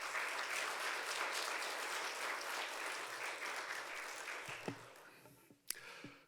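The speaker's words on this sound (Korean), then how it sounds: "우리 강사 목사님 나오실 때 박수로 우리 환영해 주시면 감사하겠습니다" Applause rises from a church congregation welcoming a guest pastor to the front during an autumn revival meeting, a dense steady patter that thins out near the end, leaving a few scattered claps and thumps.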